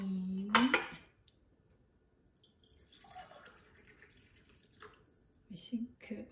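Blended homemade yogurt mixture is poured into a container, beginning with a loud clink and splash, then soft faint dribbling with light kitchen clatter and brief voice sounds.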